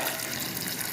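Water gushes steadily and loudly into a pot of chickpeas with cardamom, clove and cinnamon, a brief continuous splashing pour close by with no voices.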